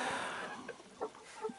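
Young roosters and chickens cluck in a coop with wet bedding, a few short soft clucks over a steady background hiss.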